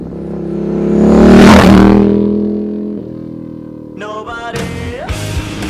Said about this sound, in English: It sounds like a MotoGP bike.